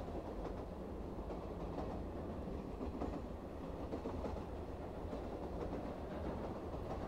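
The 12628 Bangalore–New Delhi Karnataka Express rolls along, its wagons giving a soft, steady rumble with faint rhythmic clickety-clack heard from inside the train, no voices.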